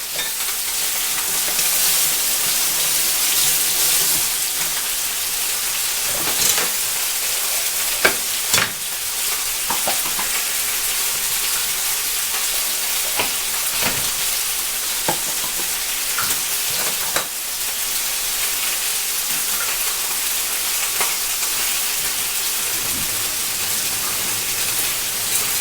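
Bell pepper sizzles and fries in a pan for a paella, a steady loud crackle throughout with occasional scrapes and knocks as it is stirred.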